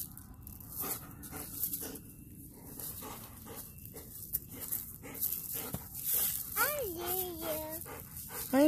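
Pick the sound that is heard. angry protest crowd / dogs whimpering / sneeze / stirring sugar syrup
dogs whimpering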